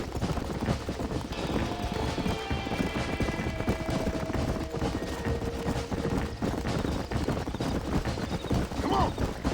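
A horse galloping in the Red Dead Redemption video game, rapid hoofbeats pounding steadily under game ambience with faint tonal sounds, mostly without talk.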